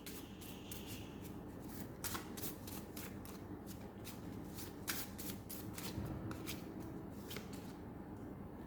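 Tarot cards are shuffled by hand at a steady pace, giving a close, continuous papery riffling with regular crisp bursts and no talk over it.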